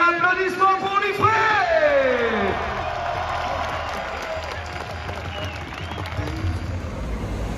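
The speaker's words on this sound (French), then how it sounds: "Allez, on peut encore les applaudir, mesdames et messieurs." Crowd applauding and cheering at a French Coupe de France seventh-round football match between US Liffré and Guingamp, sustained clapping with shouts and whistles, an announcer's voice heard over the start of the applause.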